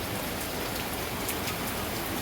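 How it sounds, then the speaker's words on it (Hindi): Heavy rain pours down steadily, a dense hiss of drops hitting surfaces with no pauses, fairly quiet and even throughout. "तो देखें कितनी तेज़ बारिश हो रही है"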